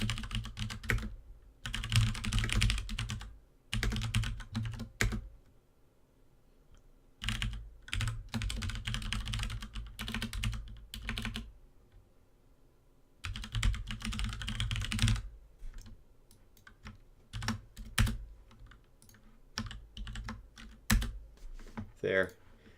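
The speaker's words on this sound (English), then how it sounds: "I'll type it in manually" Someone types on a computer keyboard in bursts of rapid clicking keystrokes, pausing briefly between runs, close and clear, with occasional faint talk.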